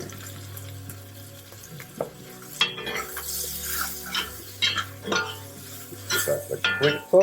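Mushrooms tossed into a pan with chopped onions for a Norwegian game stew, sizzling under repeated scraping and stirring strokes, with metal spoon clacks against the pan growing busier toward the end.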